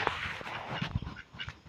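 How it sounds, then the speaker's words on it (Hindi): Two ducks quack in short, irregular bursts close by outdoors, with rustling and background noise between the calls. "और ये देखिए दो ठो बतख"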